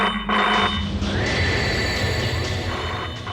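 A phone that had been dead suddenly rings, a loud electronic trill that sounds in bursts and continues for several seconds, close and alone.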